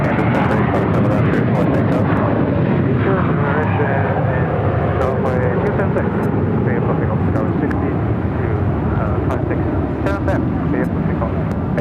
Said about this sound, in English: 737-700 Southwest Airlines flight 992 heading down to 7 left